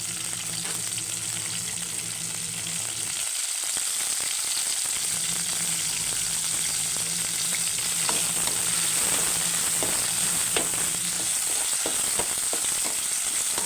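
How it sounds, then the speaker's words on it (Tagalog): Ingredients sautéing in a pan for a mung bean dish with pork hock and sotanghon noodles give a steady, close sizzle that runs nearly the whole time, with a brief dip partway through and occasional stirring clicks. "Gisa ko yung mga ingredients niya bago ko ilagay po doon."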